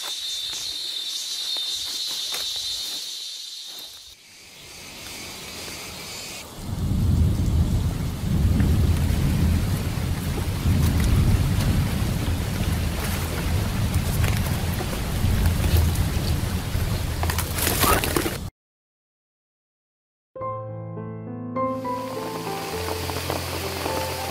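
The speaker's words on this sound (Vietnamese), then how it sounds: "bỗng dưng trời nó mưa ầm ầm xuống mọi người ạ. Trận mưa này nó quá to luôn." Heavy rain pours down in a forest, a loud steady hiss with deep rumbling thunder swelling through the middle, preceded by quieter ambience and insect-like chirps before a brief cut.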